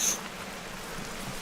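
Rain in the hunting game theHunter: Call of the Wild, a steady soft patter with even hiss throughout, alone with no voices.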